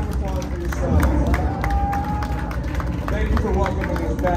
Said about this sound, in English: give a fucking huge round of applause for yourselves